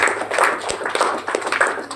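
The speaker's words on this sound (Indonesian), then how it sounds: "Tepuk tangan, katakan amin" Congregation clapping hands during a Sunday church service, a dense, steady patter of many hands filling the room.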